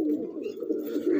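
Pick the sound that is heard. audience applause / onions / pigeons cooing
pigeons cooing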